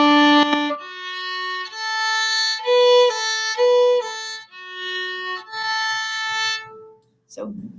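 A bowed string instrument plays measures 5 and 6 of a beginner method-book exercise, a slow sequence of sustained single notes with clear pitch changes, close and alone, followed by a brief voice at the end.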